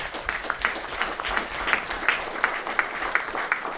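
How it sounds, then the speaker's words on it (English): Steady clapping from a panel audience at EVE Fanfest 2018, dense and continuous with a few sharper individual claps standing out, fairly distant and moderate in level. "I think they deserve a round of applause."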